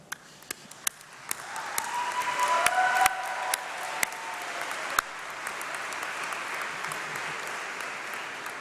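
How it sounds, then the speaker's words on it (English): Audience standing to applaud at a university graduation congregation in a large hall, dense steady clapping that swells and holds for several seconds, with a few sharp nearby claps standing out. "Please stand up and give them a round of applause."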